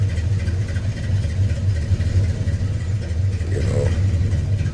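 A Chevy Caprice engine runs steadily after a push-button start, a low, even rumble close by with a faint rise in tone partway through and no voices.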